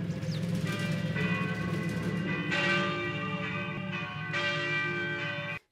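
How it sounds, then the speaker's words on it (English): A church bell rings in a scene from the 1970 war film Kelly's Heroes, sounding repeated resonant clangs whose metallic tones linger and overlap, ringing fairly loud before cutting off abruptly at the end. "And this bell will start."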